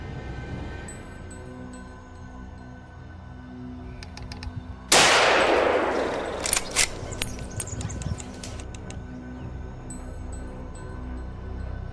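A single loud gunshot rings out during a wild boar hunt, a sharp broadband blast that cuts through steady outdoor ambience and leaves a decaying echo with a few smaller clattering knocks afterward.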